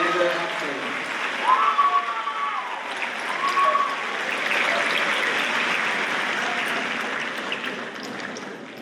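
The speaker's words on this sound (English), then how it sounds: "Please give them a round of applause for their hard work, dedication, and their excellence." An audience at a school spring awards assembly claps together in a sustained round of applause that swells and holds steadily, a few brief whistles rising above the dense clapping.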